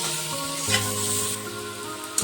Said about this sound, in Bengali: এখন ওলকপিটাকে ভালো করে ভেজে নেব